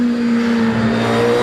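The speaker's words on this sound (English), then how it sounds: "V8 engine making an unusual but quite healthy sound" A V8-engined hillclimb race car at Shelsley Walsh drones loudly and steadily close by, holding a strong, even engine note through the whole short stretch with no voices over it.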